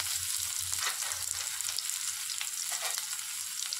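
Cumin and mustard seeds fry in hot oil, giving a fine continuous crackling sizzle with faint stirring, close and fairly quiet, with no one speaking.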